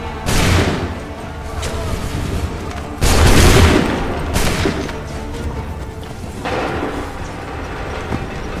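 Musket volleys in the video game Assassin's Creed III, two loud crackling bursts of massed gunfire with rumbling battle noise in between and a softer volley later.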